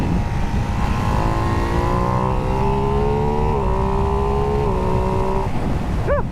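A Ducati Hypermotard 698 motorcycle engine revs steadily and loudly up close, its pitch climbing in sustained stepped sweeps for about five seconds before easing off.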